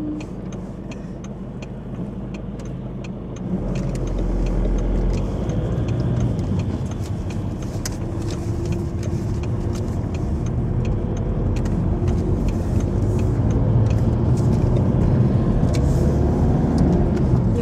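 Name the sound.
car driving on the road to work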